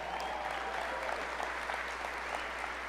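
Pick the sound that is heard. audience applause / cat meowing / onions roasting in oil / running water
audience applause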